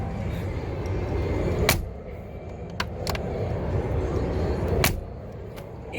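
Door of a Mercedes-AMG G63 with no keyless entry shutting and latching, several sharp metallic clunks and clicks standing out close against a low engine and road hum.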